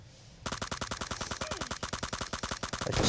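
Rapid automatic gunfire in the PUBG Lite video game, a sustained burst of evenly spaced loud shots for nearly three seconds, with no talking.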